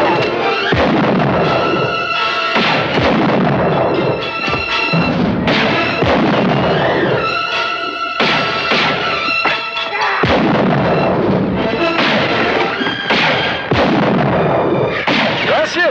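Rapid gunfire from a western film set in 1960s-style action, a dense string of sharp cracks and booms running nearly nonstop at loud, close range with scattered voices mixed underneath.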